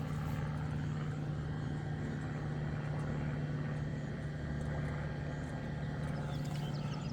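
An airplane landing at a nearby airport passes overhead as a steady, faint droning hum with a constant low tone, unchanging throughout, with no talking.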